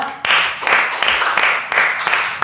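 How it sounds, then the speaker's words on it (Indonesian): Audience on an Indonesian talk show claps together in quick, even bursts that swell and fade about twice a second, fairly close and loud, with no voices over it. "Tepuk tangan lagi ya"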